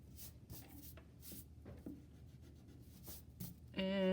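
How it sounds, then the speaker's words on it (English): Pencil lines being erased from a second-grade overlapping leaf artwork, a steady soft rubbing and scratching with repeated strokes, close but faint, with no talk. "I'm just erasing my pencil lines to neaten up my artwork."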